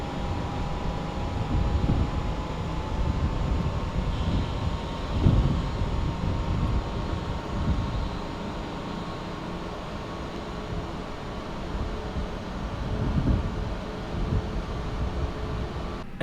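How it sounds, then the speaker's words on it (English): ANA A320neo engine running while parked at startup: a steady, moderate cabin hum with a thin sustained whine, plus muffled thumps and bumps from the cabin. "Engine number 2 is stabilized."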